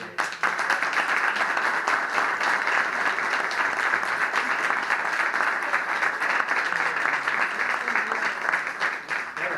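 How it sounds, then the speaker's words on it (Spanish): Sustained applause from an audience at the end of a talk, steady dense clapping filling the room for several seconds without a break. "Bueno, pues un aplauso a Germán que..."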